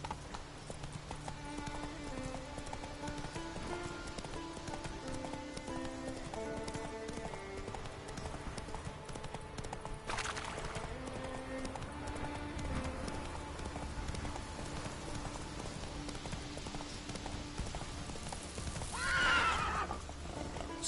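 Roach, the horse in The Witcher 3, gallops with steady hoofbeats under soft game music and light rain, and a loud whinny rises near the end.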